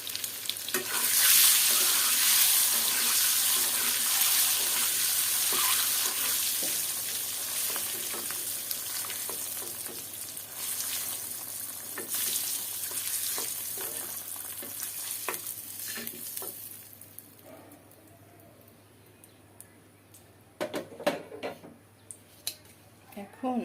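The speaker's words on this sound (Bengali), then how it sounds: "তারপর ডিমগুলা ভাজতে হবে।" Eggs frying in a pan give a loud, bright sizzling hiss that fades after the first stretch. Scraping utensil sounds and sharp clinks follow, ending in quieter intermittent kitchen clatter, with some talking mixed in.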